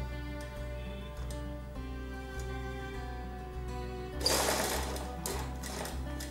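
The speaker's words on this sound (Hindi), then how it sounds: "उसके बाद ये मशीन से इसी तरह सिलाई होगा।" A sewing machine stitches fabric in a steady mechanical rhythm of regular clicks and hum, with a louder rustling burst of handled cloth near the end and no talk.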